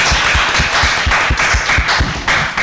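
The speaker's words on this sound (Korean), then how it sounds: "박수를 부탁드립니다" An audience applauds a poet at a book talk at the Korean Modern Literature Museum. The clapping is rhythmic and fairly close, with distinct individual claps in a steady, rapid pattern and no speech.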